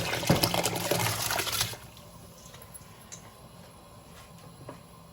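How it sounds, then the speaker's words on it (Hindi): Soaked rice, about 1.5 kilograms, pours into a pot of boiling water for Karachi-style chicken biryani, a short close splashing rush that fades into quiet bubbling. "इसमें अब मैं चावल डाल रही हूँ जो कि मैंने ऑलरेडी भिगो के रखे हुए हैं"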